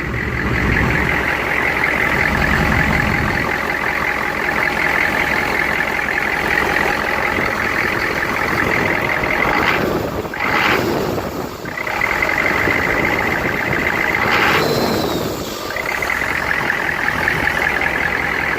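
A 6.5 diesel engine runs steadily after an injector pump replacement, a loud, close, continuous rumble with a brief dip in the middle and no talking.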